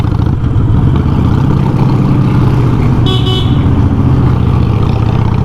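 Harley-Davidson Iron 883 motorcycle riding through a bridge, a loud, constant low engine rumble close to the listener, with a short higher-pitched tone cutting in briefly near the middle.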